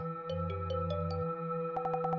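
Phone ringing in the video game Urban Myth Dissolution Center, a clean electronic ringtone of short repeated tones over a low synth drone, ending in a quick series of bright pulses.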